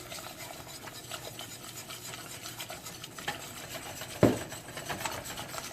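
Flour being stirred as it cooks in a pan for a Greek moussaka sauce, a steady soft rubbing and scraping texture with a sharper knock near the end, no voices.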